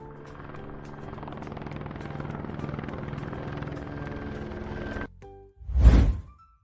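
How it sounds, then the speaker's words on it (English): A police helicopter with steady rotor chop and engine whine lasting about five seconds, then cut off, followed by one loud thump. "This is a police helicopter."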